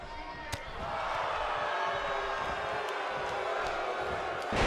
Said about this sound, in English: Wow, what a slam.